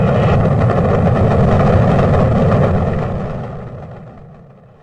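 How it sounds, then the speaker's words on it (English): Rocket engines roaring at launch: a dense, loud, sustained low rumble that fills the clip and then gradually fades away. "All engine running."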